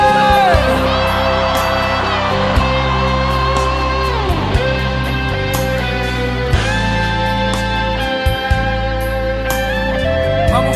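A large crowd at a family gathering shouts and cheers loudly, with music and singing running steadily beneath the noisy voices.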